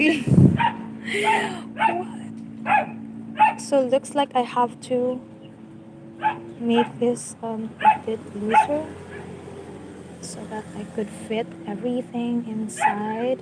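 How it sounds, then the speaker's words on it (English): A dog barks and whimpers indoors in short bursts while a person talks over it, the yips and whines rising between phrases of speech. "And sorry for my dog."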